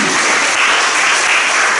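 A church congregation breaks into loud, dense applause, a continuous wash of many hands clapping at once with no voices standing out.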